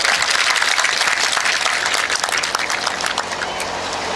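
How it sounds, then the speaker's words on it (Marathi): A crowd at a political speech event breaks into loud, sustained clapping, a thick continuous patter that eases slightly toward the end. "जोरदार टाळ्या वाजू द्या."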